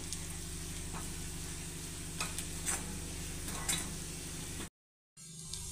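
Onion being sautéed with garlic, coriander powder, garam masala and turmeric gives a steady close sizzle with occasional spoon scrapes and stirring clicks. The sizzle cuts out abruptly near the end, then returns.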